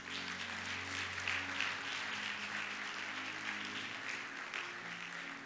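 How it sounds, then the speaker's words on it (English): A church congregation claps steadily during a Sunday sermon, a soft, distant wash of many hands sustained throughout over a low room hum and faint tonal background. "Come on, clap for Jesus."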